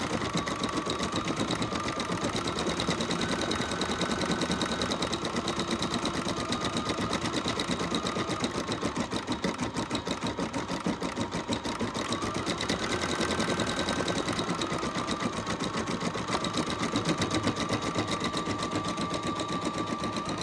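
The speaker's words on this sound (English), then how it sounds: "now we push the button again, and the embroidery is going to start" A Bernina 630/640 sewing machine stitching an embroidery runs with a fast, steady mechanical whir and needle rattle, shifting slightly in pitch as the design advances, loud and close with no talk.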